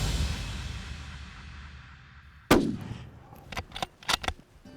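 A hunting rifle fires once at a stag in open country in Argentina, one sharp loud crack that rings off into a fading echo, followed by several fainter knocks and rustles nearby.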